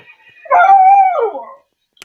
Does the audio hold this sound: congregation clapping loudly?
no